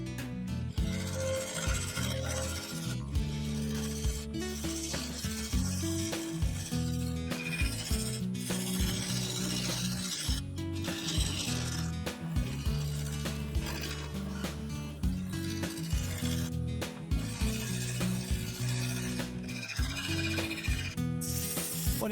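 Woodturning tools rub and scrape steadily against spalted beech set with three-colour epoxy resin on a lathe, a continuous rasping texture over a low hum, moderately loud and with no talk.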